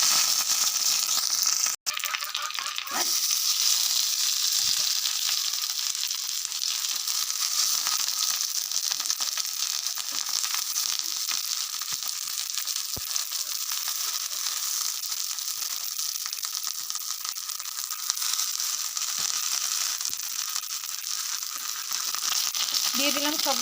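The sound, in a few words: morola fish wrapped in bottle gourd leaves frying in a pan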